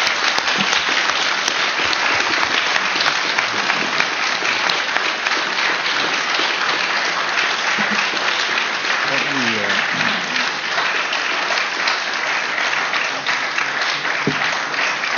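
Sustained audience applause fills a Senate Veterans' Affairs Committee field hearing in Atlanta, steady and dense throughout with a brief murmur of voices partway through.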